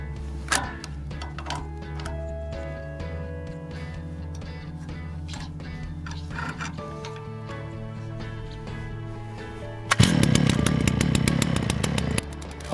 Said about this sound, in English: Hold the chainsaw handle low down so that the blade easily cuts through the log